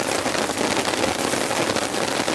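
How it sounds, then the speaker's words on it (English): Heavy rainstorm pounding on a tent during a camping trip, a dense, loud, continuous patter of drops with no pauses. "This is a full-on deluge."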